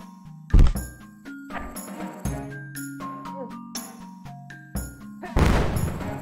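Bombs explode in the 2D Zelda-like game Ocean's Heart. A heavy thud lands near the start and a louder, noisier blast comes near the end, both set against tinkling chiptune-style game music and effects.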